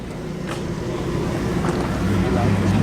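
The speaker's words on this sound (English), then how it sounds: "Triumph Stag, lovely burble, very nice in black." A black Triumph Stag classic car sits at a transport festival, its engine giving a low, steady burble that grows slightly louder over a few seconds, close by with outdoor background.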